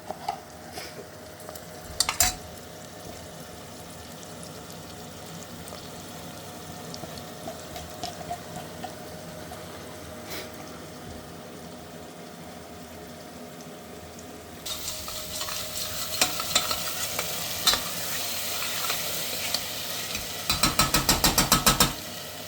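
Onions fry in a pan with a steady low sizzle and occasional stirring scrapes, the frying swelling much louder in the last stretch with rapid clattering bursts near the end.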